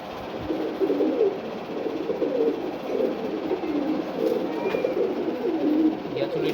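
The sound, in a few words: pigeons cooing, ghiyachulli pigeon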